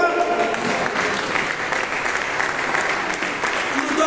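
A congregation claps to acclaim the Lord during a Saturday prayer service for the sick at the chapel of Notre-Dame de Lourdes, producing loud, dense, sustained applause with voices mixed in throughout.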